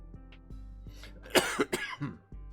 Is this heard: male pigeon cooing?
no